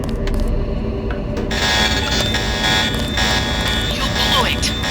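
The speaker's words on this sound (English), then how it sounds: "The alarm just closed the north door." Electronic alarm blaring in the Deus Ex video game, a steady sustained buzzing tone running throughout over dense game background noise and voices.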